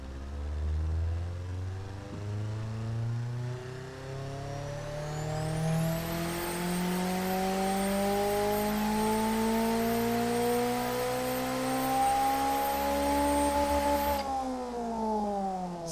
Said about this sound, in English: you can hear some engine noise underneath it, but let's be honest, you're just hearing that turbo